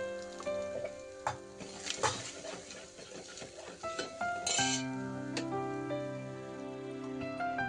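Tamarind pulp goes into a hot pan holding ginger-garlic paste and turmeric for Telangana dappalam, giving a soft, close sizzle with a few clinks, under steady background music.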